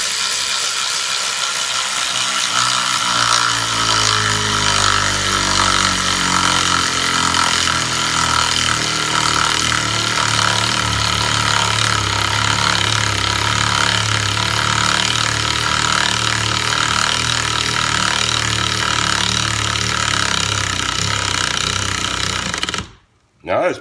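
A Kimo 12 volt cordless ratchet drives a fastener straight into a wood block, making a loud continuous grinding motor drone with rhythmic rattling that runs for over twenty seconds before cutting off abruptly.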